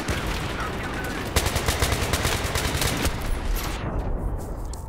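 Rapid automatic rifle fire from a FAMAS or L85A2 on the Karkand map in Battlefield 3 rattles out as loud, dense, close bursts. The firing barely pauses across the stretch.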